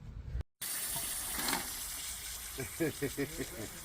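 Water hisses and sprays steadily from a pressurized, waterlogged well bladder tank, a continuous close wash of sound with a brief cut near the start and speech later on.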